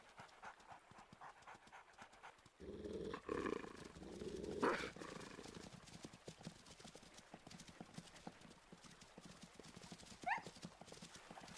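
Hooves of a running elk herd in the WolfQuest video game, a rapid, continuous drumming clatter mixed with panting and rustling noise, with a louder thump partway through and no talking.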